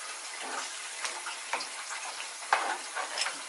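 Chicken curry stirred in a frying pan, a soft continuous scraping and sizzling with a few louder clacks of the spoon against the pan, close and steady with no talk.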